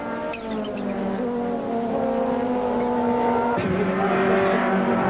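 Opel Record touring race cars in a modified-saloon race at Killarney circuit roar past with sustained, buzzing engine notes whose pitch climbs and then drops sharply as gears change, loud and continuous throughout.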